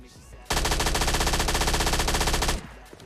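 A sustained two-second burst of rapid automatic gunfire from a silenced gun in PUBG Mobile Lite, loud and dense with steady rhythm, abruptly starting and stopping.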